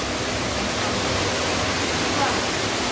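A big waterfall near a cave, partly dried up from the day before, gives off a steady broadband rush of falling water. The roar is loud and unbroken, with no voices.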